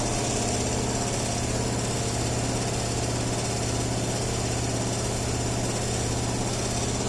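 A DC shunt motor runs under increasing load during a bench load test, giving a steady, continuous electric hum and whine with a constant drone and no breaks, fairly quiet and alone.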